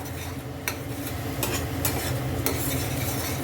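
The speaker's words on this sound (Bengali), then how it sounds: "আমি এর মধ্যে হলুদ আর লঙ্কাটা দিইনি বলে তেলের মধ্যে অতটা ফাটলো" Oil crackling and spluttering in a pan as tomato and ginger fry, a steady dense sizzle with a few sharper pops and stirring scrapes, close and moderately loud, no talking.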